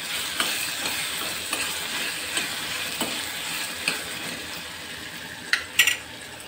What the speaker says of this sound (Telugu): వీటిని బాగా వేయించాలండి